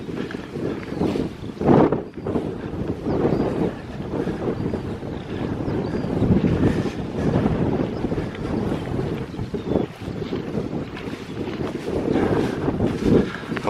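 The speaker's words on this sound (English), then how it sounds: "Pulverised by the wind." Strong gusts roar across an open hillside meadow, buffeting the microphone in a continuous low rumble that swells and eases in waves, with no voices heard.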